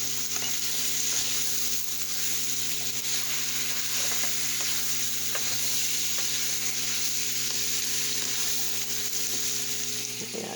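Vegan sauce with crushed peppers and spices simmering down in a pan, giving a continuous close hiss and sizzle with faint bubbling and occasional soft stirring, steady throughout and without talk.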